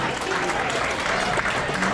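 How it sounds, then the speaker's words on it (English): An audience at a benefit concert for canines claps for itself in a dense, steady wash of applause that holds at an even level throughout, with no pause. "Everybody clap yourselves"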